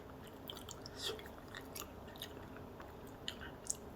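Close, quiet chewing of soft eggplant cooked in a reused spicy hot sauce stew, with squishy mouth sounds and a couple of small sharp clicks over a steady low background hum.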